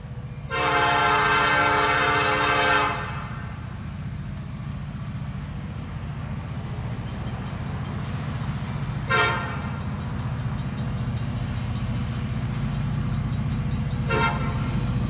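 A Union Pacific SD70 locomotive sounds a loud, sustained multi-tone horn blast while its diesel engine rumbles close by. The train keeps rolling past under steady heavy noise, and two short horn toots follow later.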